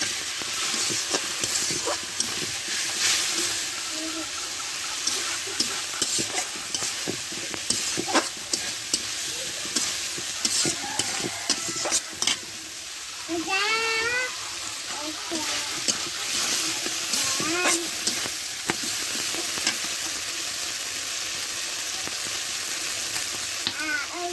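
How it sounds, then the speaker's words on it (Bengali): Spice paste for a village-style egg curry, loosened with a little water, sizzles and is stirred in a pan. There is a continuous bubbling hiss and repeated scraping strokes, with faint background voices now and then. "মশলাটা ভালোভাবে কষিয়ে নেবো"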